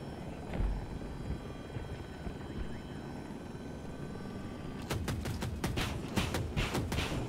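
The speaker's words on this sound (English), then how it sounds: "Yo, attack chopper on our right." An attack helicopter in the video game Battlefield 2042, a steady loud rotor and engine drone that grows into a rapid, chopping blade beat, with some gunfire-like impacts at the end.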